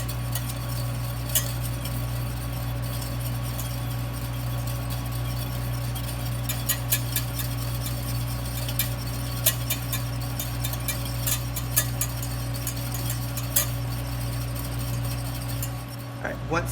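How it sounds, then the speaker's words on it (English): Butter being whisked into a lemon butter sauce in a pan, with soft clicking whisk taps over a steady hum of kitchen noise, while a person talks throughout. "we're going to whisk this in until that butter is melted and it's smooth"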